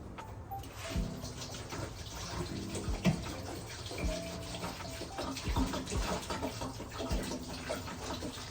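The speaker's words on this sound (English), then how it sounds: "Go ahead and pour the vinegar." Vinegar is poured into a stainless steel bowl to flush a tankless water heater, a steady close splashing and trickling of liquid with a few soft knocks, quiet and without talk.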